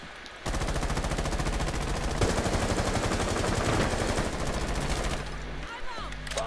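Rapid automatic gunfire from Tom Clancy's Rainbow Six fills the scene in a dense, steady burst lasting several seconds, then tapers off near the end.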